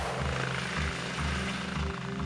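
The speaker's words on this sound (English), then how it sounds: "The ace in the pack of the Essex Police Force is the Air Support Unit, with its Eurocopter 135." A Eurocopter 135 police air support helicopter flies overhead, its rotor thudding in a steady low pulse beneath a loud, continuous turbine roar, with no voices.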